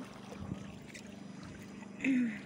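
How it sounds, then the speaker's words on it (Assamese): A small boat being rowed on water with a steady low churning hum and soft lapping, a brief louder splash or swell near the end; faint voices may be mixed in. "এইয়া চাওক, আমাৰ মায়ে নাও পাই আছে এয়া"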